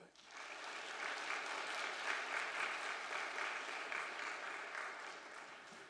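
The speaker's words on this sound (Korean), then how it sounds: "여러분 박수 한번 해주실까요?" A church congregation applauds steadily and fairly loudly throughout, a dense wash of many hands clapping with no pauses.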